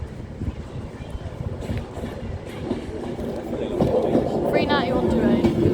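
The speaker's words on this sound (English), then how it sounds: "First ever Avanti I've seen here." An Avanti West Coast Class 390 Pendolino train with eleven carriages rushes past, a rumbling roar with wind buffeting that swells toward the end while someone talks over it.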